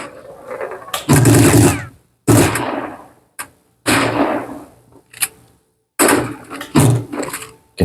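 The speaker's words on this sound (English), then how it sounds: "You can hear the shotguns going off as the humans try to fight back against the dinos." Shotguns go off in the Primal Carnage pinball video game, several sharp, loud blasts with decaying tails, spaced a second or two apart and separated by near-silence.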